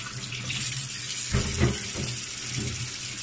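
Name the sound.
water running from a tap, rinsing chicken breast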